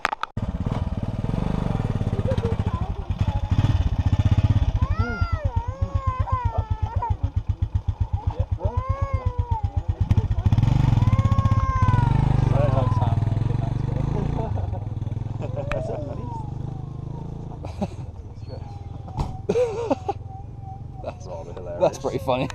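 A motorbike engine rumbles steadily close by for most of the stretch, with a fluttering low pulse, while several people talk and call out over it; the engine fades somewhat toward the end.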